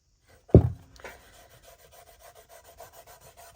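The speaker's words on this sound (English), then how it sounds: "I'm going to take a little wet wipe and distress the edges." A wet wipe rubs along the edges of a tray painted with two dry coats, distressing it: one sharp knock at the start, then a soft, steady scrubbing close by with no talk.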